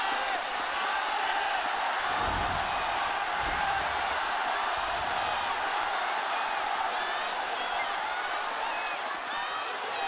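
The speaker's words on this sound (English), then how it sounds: "hear just how loud this crowd is here for us in Nanjing, because it is absolutely deafening when they all roar in unison" A huge stadium crowd at an esports grand final in Nanjing roars steadily and loudly in unison, a dense, unbroken wall of noise that lasts throughout.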